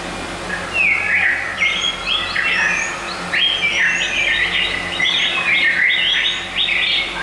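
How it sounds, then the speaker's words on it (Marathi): A morning soundscape of many birds singing together at a bird gathering near Amravati, Maharashtra: overlapping whistles, chirps and trills from several species in continuous bursts over a constant background hiss. "आता हे मिक्स साऊंडस्केप आहे ह्याच्यामध्ये अनेक पक्ष्यांचे आवाज"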